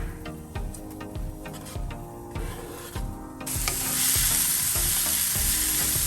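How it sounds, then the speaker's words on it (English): Onions caramelizing in a pan sizzle up close while a utensil stirs and scrapes them in a steady, repeated rhythm, and the hiss grows brighter and louder midway through. "now we're just going to caramelize the onions"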